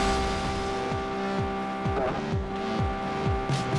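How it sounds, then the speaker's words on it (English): Racing car engine held in its top gear in the mobile racing game Asphalt 7, a steady loud drone with repeated sweeping pass-by tones and a brief squeal in the middle, no talk. "check this out. Listen to this engine."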